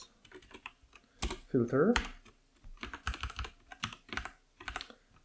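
Code typed on a computer keyboard during a JavaScript lesson, with rapid clusters of close, crisp key clicks and a few pauses, mixed with someone speaking over the typing.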